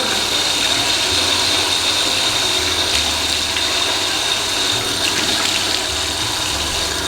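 Water runs steadily from a tap while a face mask is rinsed off, a loud continuous hiss close by with faint splashes and no talking over it.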